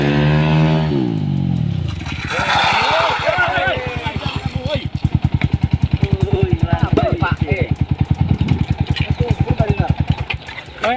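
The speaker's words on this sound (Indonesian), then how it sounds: "Naik motor kayak gitu" A motorcycle passes close by, its engine rising into a loud, rapid putter that slows into a chugging idle before cutting off, with people talking over it.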